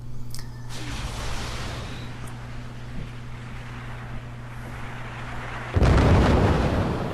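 A missile silo fires in the strategy game Forts, a booming launch rumble over a steady low mechanical drone, followed by a loud, broad blast near the end.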